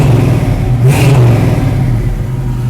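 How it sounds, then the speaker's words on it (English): A cold 1969 Chevrolet Camaro 350SS convertible's V8 revs once in a short blip over its rumbling idle, loud and close. "See if we can let you hear the car a little bit."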